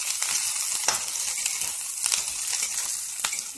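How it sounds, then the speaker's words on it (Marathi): Chopped onion and cabbage sizzle steadily in a pan over a low gas flame for veg Manchurian, a continuous close frying hiss with a few scraping stirs and no talk. "गॅस मंद असल्यावर ठेवून 2 ते 3 मिनिट चांगलं भाजून घ्यायचं आहे"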